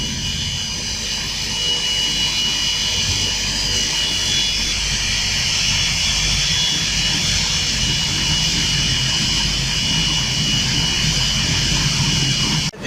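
Pelton turbine laboratory experimental setup running with a water jet issuing from a nozzle: a loud, steady broadband roar with whining mechanical tones, continuous and close for the whole stretch.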